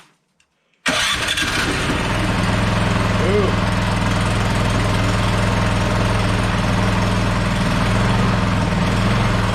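A Troy-Bilt snowblower engine, freshly fitted with a new carburetor gasket, catches after a brief silence and settles into a loud, steady, droning run that continues unbroken to the end.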